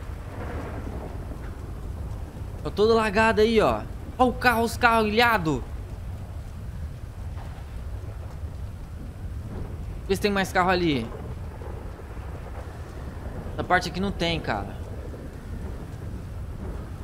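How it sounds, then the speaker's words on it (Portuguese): Heavy rain and thunder in the GTA 5 video game during a Los Santos flood, a constant low storm rumble under someone talking in bursts over it. "Tá chovendo muito, mano."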